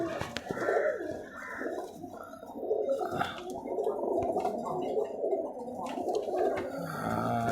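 Green-eyed pigeons cooing softly in a dim indoor loft, low murmuring coos repeating continuously, close by with a faint background hum.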